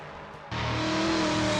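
Toyota Supra LM GT1 race car engine in Assetto Corsa at Road America, loud and close, jumping up in pitch and volume after a brief lull as it accelerates hard with steady harmonic drone.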